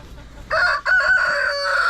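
A large rooster on a homestead in fall crows loudly and close by, a drawn-out cock-a-doodle-doo with a brief dip early on, over faint outdoor background noise.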